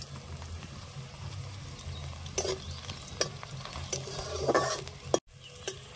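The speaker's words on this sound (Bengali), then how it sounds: "পেঁয়াজটা লাল লাল করে ভেজে নেব।" Salted onions frying in oil in a pan, a low continuous sizzle broken by a few sharp spatula scrapes and taps, then a sudden cut to near silence before the sizzle resumes.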